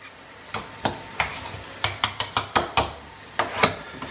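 Hot potatoes are mashed in a pan for a cottage pie, with a quick series of sharp metal-on-pan knocks and scrapes, irregular at first, then faster and rhythmic, close and fairly loud, with no talking.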